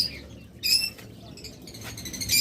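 Small caged pet birds such as budgerigars and cockatiels give short high chirps in scattered bursts, moderately near, with one louder cluster, over a low background hum.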